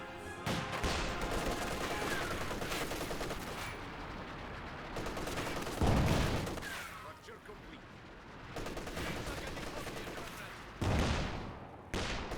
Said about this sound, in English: I heard a flare mine get tripped, or that was the cannon warfare.